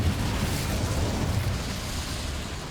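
A fiery Incendio spell blast in the Hogwarts Legacy video game, a dense, roaring burst sustained loudly throughout with heavy low rumble and no pause.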